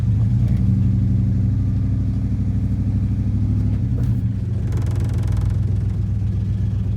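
1996 Dodge Ram 1500 engine running rough and struggling, a loud, steady low rumble close by with slight uneven surges and no talk.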